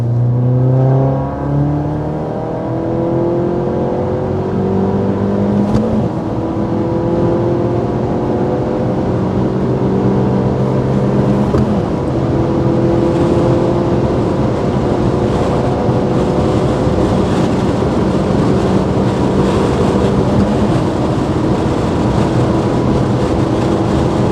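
Seat Leon Top Sport with a 1.8T 20V turbo engine of about 210 hp accelerating through the gears, loud rising engine whine climbing in pitch with shifts, sustained and close from inside the car, no talk.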